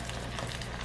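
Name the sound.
frying potato chips in oil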